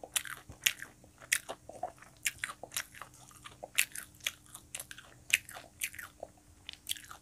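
Close, crisp crunching as someone bites into a crunchy fried chicken drumstick, several sharp bites and chews in an uneven rhythm, with no talking.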